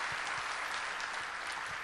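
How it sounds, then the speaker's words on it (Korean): Steady applause from a church congregation during a Sunday service, a dense, even wash of clapping filling the room for the whole stretch without any talk. "우리 세은 씨 한번 자리에서 우리 박수로 한번 격려해 주십시오"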